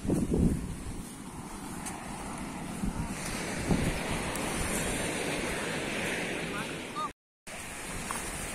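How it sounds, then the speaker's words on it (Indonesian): Large sea waves surge and break against rocks at a fishing spot, a loud, continuous roar of surf with gusting wind noise across the microphone and a brief dropout near the end. "di sana ombaknya besar"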